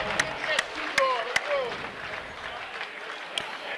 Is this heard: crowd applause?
yes